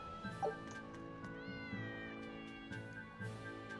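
A cat meows with clear harmonic, rising and falling calls over a steady tonal game-music background, moderately loud and close.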